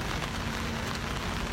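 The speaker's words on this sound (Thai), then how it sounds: "วันนี้ฝนตกครับตั้งแต่เมื่อคืนแล้วนะเป็นเวล ามา10กว่าชั่วโมงแล้วด้วยนะ" Heavy, steady rainfall patters densely and evenly on surfaces, an unbroken close hiss with no talking, ahead of a J-League match between Sanfrecce Hiroshima and Shimizu S-Pulse.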